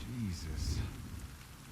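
Steady rain falls in The Last of Us Part II, a soft continuous wash with a faint low rumble beneath, brief muffled voice-like sounds near the start.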